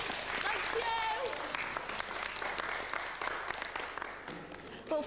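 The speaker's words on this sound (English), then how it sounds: "Give her a round of applause." A studio audience applauds on a 1999 television show after a juggling attempt, the clapping fairly quiet and blended with voices talking and cheering over it.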